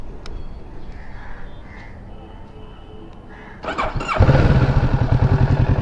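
A quiet Kawasaki Ninja 650 motorcycle rumbles at first, then the engine kicks up into a louder, steady, throaty idle with a low pulsing exhaust note.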